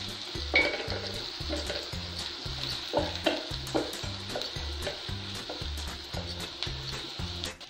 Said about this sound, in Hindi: थोड़ा सा कड़ी पत्ता डालूंगी और थोड़ा इसे चला लूंगी।